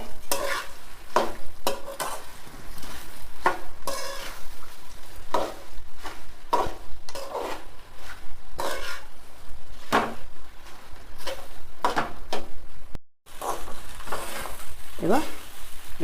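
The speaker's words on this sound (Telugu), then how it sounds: "మొత్తం మంచిగా కలుపుకోవాలి" A spoon stirs puffed rice (borugulu) upma in a pan, giving repeated scraping and rustling strokes with light sizzling. The strokes come close and steady, there is no talk, and the sound cuts out briefly near the end.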